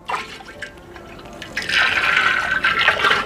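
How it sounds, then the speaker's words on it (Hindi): Two kilograms of gram flour (besan) is stirred into two litres of water for homemade organic fertilizer, making close sloshing, swirling liquid sounds that grow louder and steadier, with no voices. "2 किलोग्राम हमने ठीक तरीके से 2 लीटर पानी में घोल लिया है। यह है बेसन"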